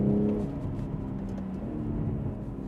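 Exhaust overrun from a BMW M340i with a B58 engine and 200-cell downpipe in sport mode, a low steady rumble easing off with faint crackle, heard alone.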